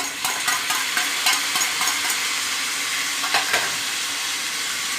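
Ginger paste fries with papaya in a pan, a constant close sizzle broken by several sharp scraping stirs of a spatula against the pan.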